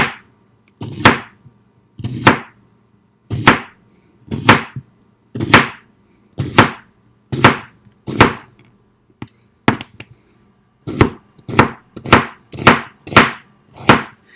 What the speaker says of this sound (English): So now you just cut your cucumber in small, thin pieces.